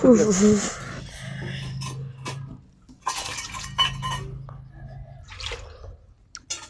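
Steel bowls clink and clatter in short, scattered knocks indoors, interleaved with people talking and a low background hum.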